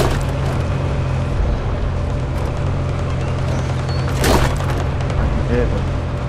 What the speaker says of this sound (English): There's gunshots in front of me.